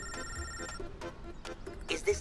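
A telephone rings with a repeating electronic tone in a busy household while people talk nearby, the ringing cutting through the voices over about two seconds.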